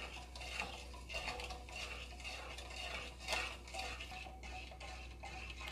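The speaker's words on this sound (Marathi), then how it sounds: "एकसारखं चमच्याने हलवून साखर वितळून घेऊयात" A spoon stirs sugar as it melts in a pan over a medium flame, the sweet base for rava ladoo, giving steady scraping and clinking strokes against the metal with no voices.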